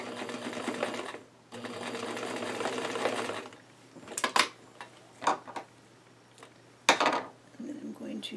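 A sewing machine stitches a collar in two steady whirring runs, followed by clicks and light handling clatter, close and moderately loud.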